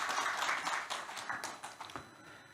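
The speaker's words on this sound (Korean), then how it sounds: "다시 한번 기조 강연해 주신 김도년 교수님께 다시 한번 박수 부탁드립니다." Audience applause at a forum following a keynote lecture: fairly quiet, steady clapping from a crowd that thins out toward the end.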